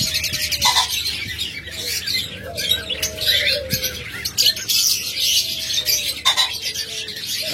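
Caged budgerigars, diamond doves and lovebirds chirp and squawk continuously at close range, with busy overlapping calls and occasional soft coos beneath.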